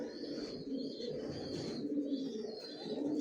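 A large flock of adult pigeons at a racing pigeon loft, their low cooing running steadily and fairly close for the whole stretch, with no talk over it.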